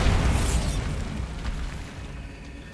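A single deep, loud explosion from the Bombarda spell in Hogwarts Legacy booms up close and then rumbles away over a couple of seconds.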